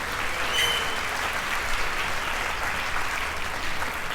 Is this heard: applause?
yes